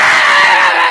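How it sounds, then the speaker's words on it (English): A loud, sustained scream pushed straight into a microphone, harsh and distorted, filling just under a second at full level with no pause. "Turn your microphone all the way up, scream into the microphone."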